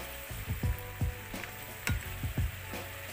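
Mixed vegetables and shrimp stir-fry with soy sauce in a pan, with a run of sharp, rhythmic scrapes and clanks from the spatula about twice a second over a steady sizzle, close and with no voices.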